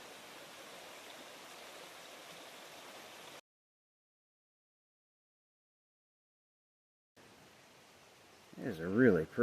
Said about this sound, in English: Just a restful look at Abrams Creek.